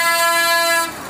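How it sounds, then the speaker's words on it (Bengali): A loud horn blasts in one long sustained tone at a crowded Jagaddhatri Puja fair in Chhatna, cutting off just before the end. "বিশাল হর্ন দিয়েছে কিন্তু"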